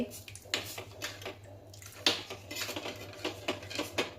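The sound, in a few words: spoon stirring warm milk in a pot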